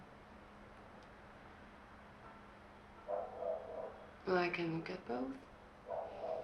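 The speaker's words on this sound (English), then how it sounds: "Will someone please let that dog out?" A dog barks in the Telling Lies video game, a few muffled, distant-sounding barks that come in short bursts. Someone speaks briefly over a low background hum.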